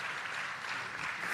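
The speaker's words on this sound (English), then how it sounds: "Another round of applause for our panelists and our moderator" Audience applause for conference panelists at the Africa Retail Congress 2023, steady fairly faint clapping from a crowd, brief and continuous.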